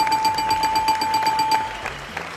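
A buzzer pressed during a Salvation Army social centres livestream gives a steady electronic tone with faint rapid beeping on top, holding for about a second and a half before cutting off.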